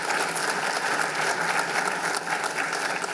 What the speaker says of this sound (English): How about another round of applause for all of our awesome speakers this morning?